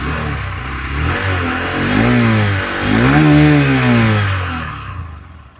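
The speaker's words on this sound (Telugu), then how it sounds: "సో ఒకసారి ఎగ్జాస్ట్ నోట్ వెళ్దాం." A 2026 Honda Shine 125 motorcycle revs twice from idle, its exhaust note rising and falling in smooth, close, loud sweeps before settling back and cutting off.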